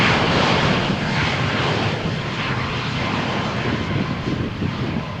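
Norwegian airliner taking off from Malaga Airport runway 13 on a stormy morning, bound for Helsinki: a loud, steady broadband jet roar that holds strong throughout, easing slightly after the first second.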